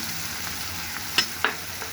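A pan of cumin powder, ginger paste, garlic paste and salt being stirred with a spatula: low, soft frying with two brief scraping knocks against the pan.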